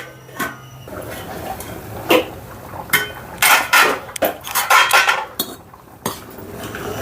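A metal lid set onto a cooking pot of khichdi in a home kitchen, a series of close clinks and clattering knocks of metal on metal, irregular and fairly loud, with no talking.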